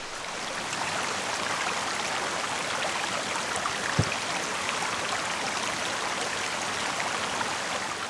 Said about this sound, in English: This is the waterfall that I wanted to see.